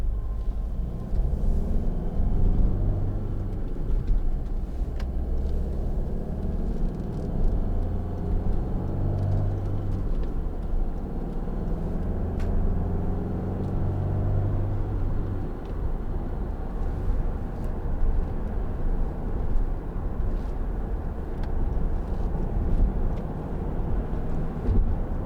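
Interior of a 2013 Hyundai ix35 1.7 CRDi SE cruising at about 70 mph in sixth gear, with a steady low engine drone and road rumble and constant wind and tyre noise throughout.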